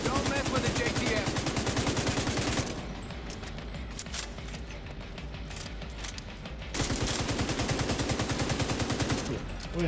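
Dense automatic gunfire rattles without pause in the shooter game The Division 2 during an embassy firefight. It sounds loud and close at first, drops back for a few seconds, then surges again.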